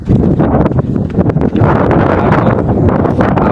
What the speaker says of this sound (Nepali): हावा एकदम